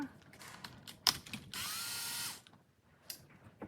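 A power drill removing the 7mm wheel nuts of an RC crawler whirs loudly for about a second, preceded by a sharp ratcheting click and brief mechanical clatter, then falls quiet.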